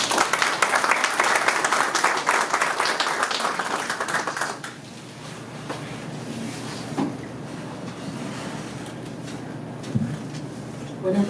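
An audience at a conference bursts into loud, dense applause to welcome a speaker, and it lasts about four and a half seconds. It then fades into quiet room noise with occasional faint knocks.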